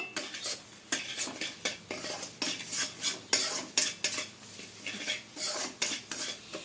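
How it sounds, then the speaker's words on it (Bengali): Spices with added salt and sugar being stir-fried in a pan for a bottle gourd and prawn dish, a steady rhythm of spatula scrapes and clanks against the metal with faint sizzling underneath, close and continuous. "খুব ভালো করে আরও কষিয়ে নেব"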